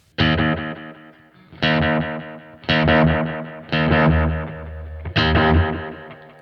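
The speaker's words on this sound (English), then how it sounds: "The sound of the echo with the first tape head." Five loud, heavily saturated phrases through a BOSS RE-202 tape echo on the first tape head, saturation at full, each followed by a decaying echo tail, with brief gaps between them.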